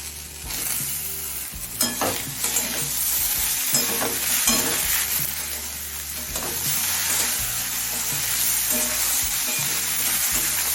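Eggplant pieces go into a hot pan with fried ground spices and are stir-fried for pui metuli, giving steady loud sizzling broken by scraping spatula strokes, close up with no talking.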